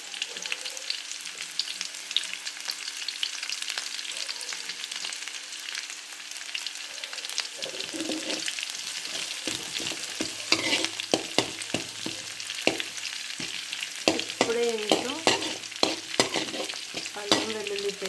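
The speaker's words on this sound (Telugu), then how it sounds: "దీని తర్వాత ఇలాగే ఉల్లిపాయలు ఇలా ఫ్రై అవుతుంటాయి" Onions frying in a pan for cauliflower fried rice, a steady close sizzle that turns busier halfway through as stirring clatters and scrapes join in, with no talking.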